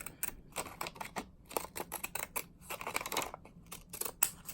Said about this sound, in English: And then I'm going to take my scrapbooking scissors and cut just inside of that.